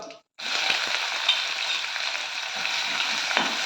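After a brief silence, chopped onions sizzle steadily in hot oil on a low flame, close and continuous, with faint stirring.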